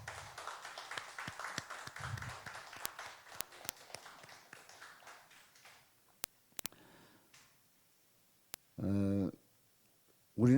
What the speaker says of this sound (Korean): 자, 우리 박수로 격려합니다.